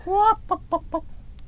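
A voice imitates a hen's clucking: one drawn-out note followed by three short, quick clucks, close and clear, then quiet.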